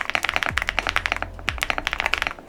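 Rapid typing on an EvoWorks Evo 75 mechanical keyboard, with close, crisp key strikes in a quick uneven rhythm and a couple of deeper thocks from larger keys.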